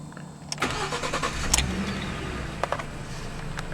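A 2012 Ford F150 pickup with the 3.7 liter engine and 6-speed automatic starting up: brief cranking clicks and bursts, then the engine catches into a steady mid-pitched run, close and moderately loud.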